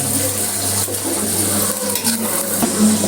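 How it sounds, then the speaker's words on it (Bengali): Green chilies fry in a pan with hot oil as they are stirred gently, giving a steady close sizzle with occasional scraping taps, and no voices. "মরিচগুলো এর মধ্যে ছেড়ে দিলাম। ছেড়ে দিয়ে হালকা একটু নাড়াচাড়া দিতে হবে।"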